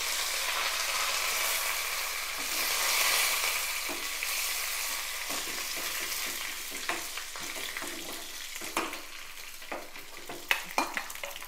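Dried red chillies and curry leaves crackle and sizzle in hot tempering oil, a steady close frying hiss with sharp pops and spatters growing more frequent toward the end; no voices.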